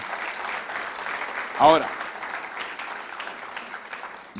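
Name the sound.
congregation applause in church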